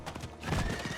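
A horse mount in the video game Diablo IV clip-clops briefly, and a whinny rises partway through the short burst.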